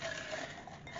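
A TBR jar filled with book picks is shaken, giving a continuous close rattle of slips knocking against the jar, at fairly low volume.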